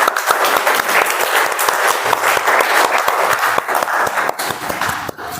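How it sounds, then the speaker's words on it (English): Dense applause from a Toastmasters meeting audience for the Toastmaster, steady clapping filling the room for about five seconds before thinning slightly at the end. "Let's give one more round of applause for Toastmaster Vaishak."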